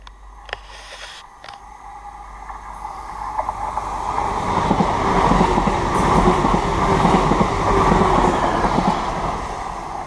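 A train approaches and rumbles past nearby in the woods, its rolling clatter and rhythmic wheel clicks building from quiet to a loud, sustained roar.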